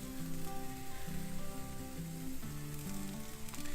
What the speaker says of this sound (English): you hear them sizzling already